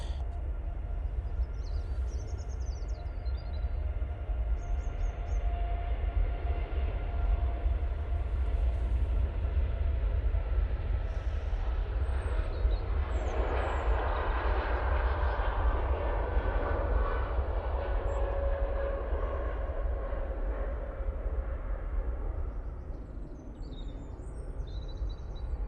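A Boeing 777 jet airliner at Manchester Airport gives a sustained, moderately distant engine roar that swells and rolls on steadily, then eases slightly near the end, with faint bird chirps above it.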